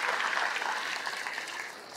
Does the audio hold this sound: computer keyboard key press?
no